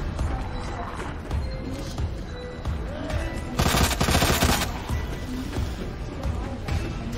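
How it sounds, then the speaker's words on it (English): Gunfire in the Resident Evil 2 video game: a short burst of rapid, loud shots mid-clip, set against busy in-game noise. "Gunfire!"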